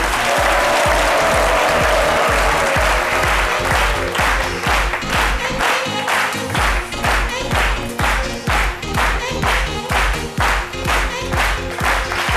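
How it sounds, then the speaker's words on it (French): A studio audience on a French-language midday TV talk show applauds loudly and steadily, with dense rhythmic clapping and a thumping music beat running underneath throughout. "Des applaudissements."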